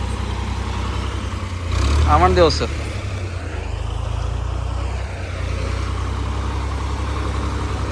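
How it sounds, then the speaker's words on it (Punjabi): A tractor engine, tow-started with a chain, runs at a steady low idle with a continuous near rumble; a voice briefly cuts in over it early on. "ਫਿਰ ਟੋਚਨ ਪਾ ਕੇ ਧੱਕਾ ਲਾ ਕੇ ਸਟਾਰਟ ਕਰਨੇ ਆ ਟਰੈਕਟਰ ਨੂੰ"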